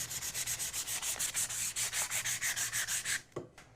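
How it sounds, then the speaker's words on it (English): Wood pieces for a giant wall letterboard being sanded by hand, heard as a close, rhythmic series of quick scratchy back-and-forth strokes about five per second, then a pause with a soft knock. "And we're just going to start sanding this really good."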